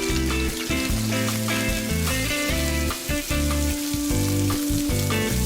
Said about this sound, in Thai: พอน้ำมันร้อนลดไฟลงทอดด้วยไฟกลางๆค่อนไปทางอ่อน